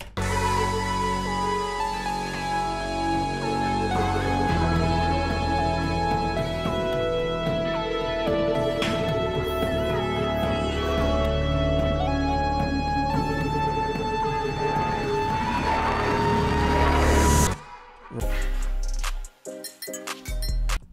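The pre-chorus of an electronic remix of a High School Musical 3 song plays loudly with layered synths and steady beat, then cuts into choppy, stuttering fragments near the end.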